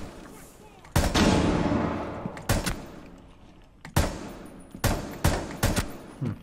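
Gunfire in the Rainbow Six Siege video game: a loud opening burst is followed by a string of sharp, separate shots at an uneven pace, close and clear with no talk over them.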